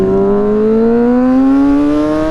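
A Honda CBR600RR motorcycle engine revs hard and close for a wheelie, one loud rising howl that climbs steadily in pitch for the whole couple of seconds.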